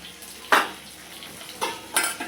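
Peanuts are tempered in hot oil for leftover-rice pulihora, heard as a faint background sizzle broken by a few sharp, brief spoon scrapes and clinks against the pan.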